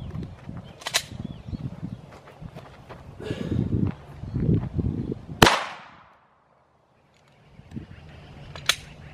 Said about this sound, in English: Glock 19, a 9mm round. I'm using a 9mm full metal jacket, 115 grain from Federal.